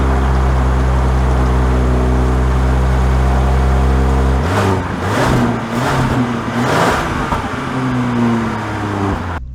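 A 2024 Genesis GV70 3.5T pulls away, its engine hum steady and near at first, then rising into a louder run of surging revs with rushing road and wind noise.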